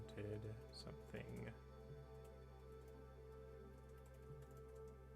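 Light, quiet tapping on a computer keyboard, mostly faint scattered clicks over a steady low hum, with a brief burst of voice near the start.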